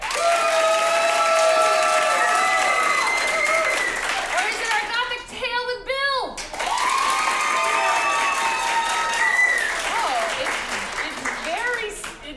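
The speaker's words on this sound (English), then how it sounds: "Clap for both, but loudest for the one that you would like to continue" A live audience claps and cheers at a performance showdown, applauding to vote for the act they want to continue. The applause is loud and sustained, with shouts and a voice breaking through in the middle.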